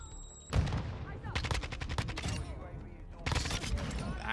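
Rapid automatic bursts from a Kastov 74U rifle in Call of Duty: Modern Warfare 2, loud and close, two dense volleys of quick shots separated by a short lull.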